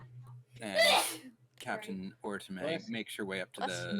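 A single loud, sharp sneeze bursts out near the start in a quiet room, followed by someone talking steadily.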